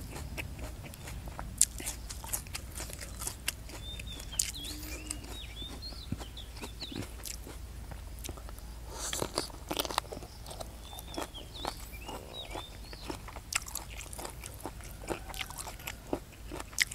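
Crunchy chewing of a spicy Thai chicken feet salad with crisp vegetables: steady close bites and crunches throughout, with faint bird calls and farm animals in the background.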